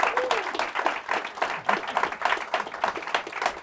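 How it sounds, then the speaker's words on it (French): A church congregation at a worship meeting claps for Jesus Christ, a lively, fairly loud burst of many hands in uneven, pulsing waves, with faint voices mixed in. "Please give a great hand to Jesus Christ."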